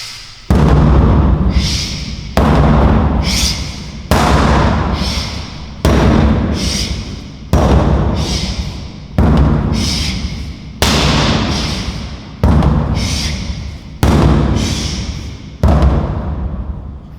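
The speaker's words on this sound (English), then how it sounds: "I'll demonstrate a couple of hammer strikes here" Tactical hammer strikes are thrown with full-body power, landing as about ten loud, heavy thuds evenly spaced around every one and a half seconds. Each impact has a sharp attack and a lingering, fading decay, with no talk between blows.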